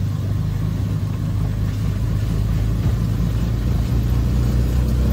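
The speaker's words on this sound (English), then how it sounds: "So I'm driving as safe as possible." A car descends a mountain road in Japan, driven slowly and carefully; a steady, close engine and road rumble continues without a break and no one speaks.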